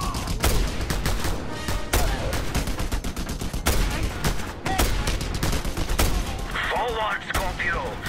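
Rapid bursts of gunfire from the video game Just Cause, loud and dense with sharp repeated shots throughout, mixed with game sounds and brief voices.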